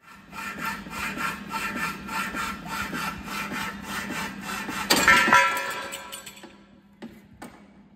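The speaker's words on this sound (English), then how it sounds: "Here's the not ideal way of cutting angle iron in one of these saws" A saw grinds through angle iron in a workshop with a rhythmic, rasping cut of repeated strokes that swells to a harsher burst near the end, then trails off into a few faint clanks.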